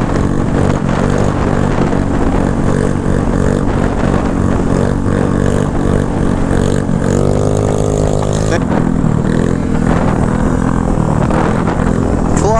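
A 150cc GY6 stunt scooter engine holds a long wheelie, droning loud and steady with a strong harmonic buzz that rises in pitch midway, then settles as the ride continues uphill.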